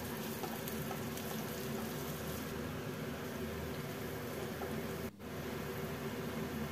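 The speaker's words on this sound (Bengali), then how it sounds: "দেখুন পেঁয়াজ ভাজা হয়ে গেছে" Chopped onions fry in oil over a medium flame, a continuous soft crackling sizzle with no talking, briefly interrupted once.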